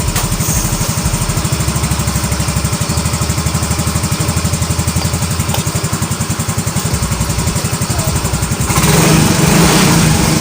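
A Yamaha Soul GT motorcycle engine running close and loud with a rapid steady firing pulse, held at raised throttle throughout and rising to a harsher rev near the end.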